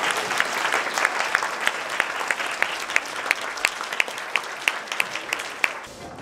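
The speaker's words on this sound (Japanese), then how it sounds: "皆さん大きな拍手をお願いいたします。" Audience at a children's space workshop gives a lecturer a big round of applause, dense crowd clapping with a few sharp nearby claps standing out, continuous and lively throughout.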